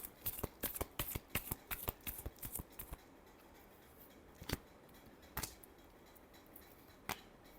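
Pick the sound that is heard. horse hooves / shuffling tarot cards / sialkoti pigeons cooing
shuffling tarot cards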